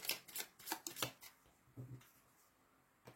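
Tarot cards being shuffled for a card draw, a quick run of crisp riffling flutters in the first second, then a couple of softer shuffles, close and quiet.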